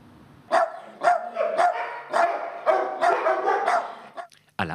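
Dogs barking at a crowded SPA animal shelter in Luynes, France, a run of loud, close barks and yips in quick bursts, with a brief whimper near the end.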